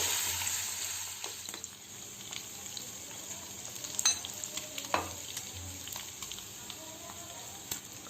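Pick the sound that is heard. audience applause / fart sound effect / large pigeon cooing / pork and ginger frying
pork and ginger frying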